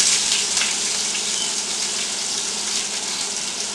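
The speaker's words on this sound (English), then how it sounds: "Now goes my onion in there." Chopped onion hits hot oil in a pan for masala beef steak, giving a loud, close, even sizzle and hiss that fades slightly over a few seconds, no talking.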